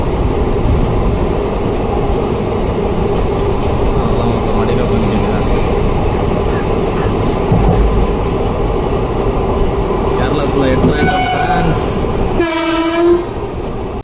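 A train departing Ettimalai station rumbles steadily nearby with rolling, clattering noise, then a loud horn blares near the end.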